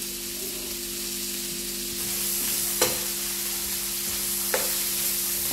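Onions with salt sauté in a pan for paneer butter masala, giving a constant hissing sizzle over a faint electrical hum, with two brief spoon taps against the pan.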